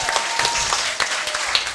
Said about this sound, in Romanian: vreau să-l primiți cu aplauze pe Adrian Nicolae!